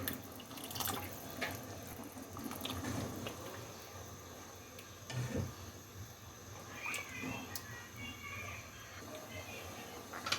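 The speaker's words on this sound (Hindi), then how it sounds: "इसमें थोड़ा सा पानी डाल दें।" Water is poured into a pot of keema pulao rice, a faint, soft trickling and splashing that stays low and continuous throughout.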